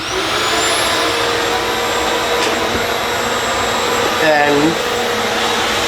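A Milwaukee 0885-20 backpack vacuum runs at speed with a loud, steady whooshing whine and high motor tone; a voice briefly speaks over it near the end.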